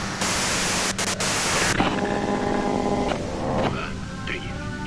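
Radio white-noise static from the game Disco Elysium hisses steadily across the clip, cut by brief dropouts and shifting into a lower, tonal crackle partway through.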